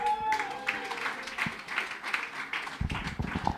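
Applause and scattered clapping from a live concert audience greeting a band's bass player, a steady crowd wash with a few louder claps near the end.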